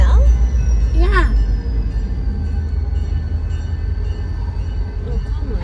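A cargo train on a Canadian railroad rumbles past nearby, a heavy steady low roar with metallic wheel squeals, while people talk over it.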